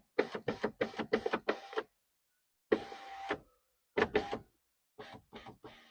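A Nissan Townstar electric window motor hums in short bursts during a wiring test. The groups of brief pulses are separated by silent gaps and sound close and fairly quiet.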